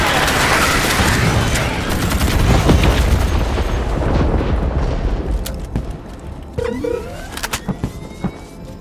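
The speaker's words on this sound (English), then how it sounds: "grenade!" A grenade goes off in the sci-fi shooter Starship Troopers: Extermination, a heavy boom rising out of a dense, continuous din of battle gunfire, with scattered sharp shots and clanks afterward.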